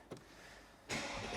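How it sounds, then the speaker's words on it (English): A 2018 Mercedes SL500 V8 starts: a brief starter click, a short pause, then the engine catches and settles into a steady, fairly quiet idle. "I will fire that V8 into life"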